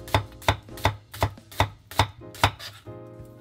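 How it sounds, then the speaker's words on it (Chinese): A knife cuts an onion into thin slices on a board with about eight crisp, evenly spaced chops, each a sharp close knock in a steady rhythm, with no talking. "洋葱切成薄片"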